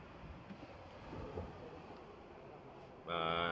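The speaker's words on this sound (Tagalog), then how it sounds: "Medyo malakas pa yung alon." Faint, steady wash of fairly strong sea waves and wind noise at a beach, followed at the end by a brief voice rising over it.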